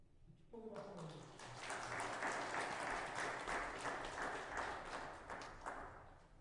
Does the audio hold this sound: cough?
no